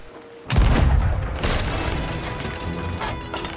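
A heavy cannon blast from a pirate ship in a video game booms out suddenly and loudly, then a rumbling, crashing tail fades over the next few seconds.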